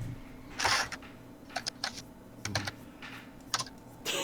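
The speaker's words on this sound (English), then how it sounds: "That's actually Jason typing" Fingers type on a computer keyboard in short irregular bursts of clicks and clacks, fairly close, with brief pauses between flurries and no talking.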